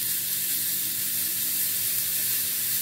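Sliced beetroot fries in a pan over medium heat, giving a steady, soft hiss of sizzling oil close up for a few seconds, with no voices.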